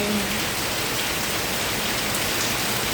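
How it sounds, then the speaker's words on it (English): Heavy rain pouring down during a thunderstorm in Kingston, Jamaica, a dense, even, continuous hiss of downpour on surfaces, close and steady throughout with no talk. "It's a lot of rain."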